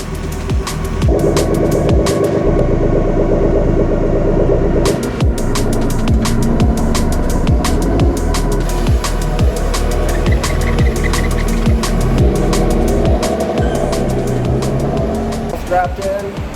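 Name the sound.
turbo BMW M52 E36 engine warming up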